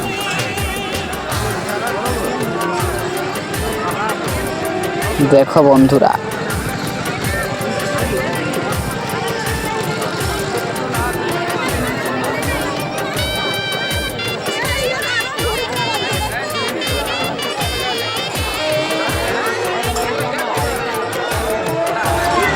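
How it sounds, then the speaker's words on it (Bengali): Dense crowd hubbub at the crowded Makra fair, a steady babble of many voices with faint clopping footfalls underneath, while someone talks over it close to the microphone. "দেখো সেই লেভেলের ভিড় আমাকে একদম সাইডে সাইডে হয়ে চলে আসতে হচ্ছে"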